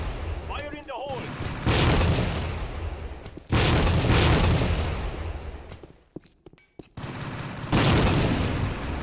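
Grenade explosion and gunfire in the Tactical Ops video game: several loud booming blasts and bursts of shots in quick succession, close and dominant, with a brief shouted voice near the start.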